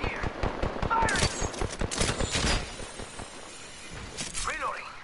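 Rapid automatic gunfire in the video game Apex Legends, loud bursts of shots clustered in the first half, then sparser shots with game voice lines and effects.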